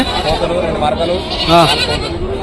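Goats at a village livestock market bleat in short wavering cries, one loud and close, under steady chatter of traders talking.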